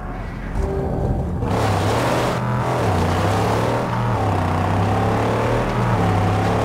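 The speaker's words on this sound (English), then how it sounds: "Rev it up and go, Saint! The buggy's humble, but she can haul!" A humble buggy's engine revs in the Mad Max video game, a loud continuous growl that swells after the first second and holds steady with shifting engine tones.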